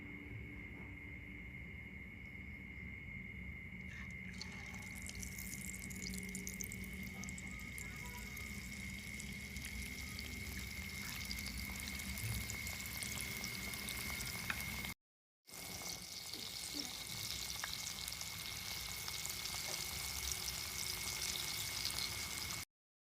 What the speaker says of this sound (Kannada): ಆಯಿಲ್ ಬಿಸಿ ಆದಮೇಲೆ ಆಲ್ರೆಡಿ ನೆನೆಸಿರೋಂತಹ ಬನಾನಾ ಸ್ಲೈಸಸ್ನ ಆಯಿಲಲ್ಲಿ ಡಿಪ್ ಮಾಡ್ಕೊಳ್ಳೋಣ